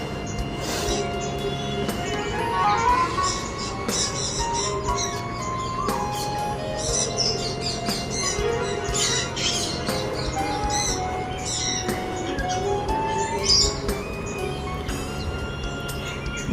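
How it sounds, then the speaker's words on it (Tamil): A parrot calling from a distance among other birds and ducks, with scattered chirps and squawks over a steady outdoor background. "தூரமாக ஒரு கிளி வந்து அங்கே வந்து பேசிகிட்டு இருக்கு."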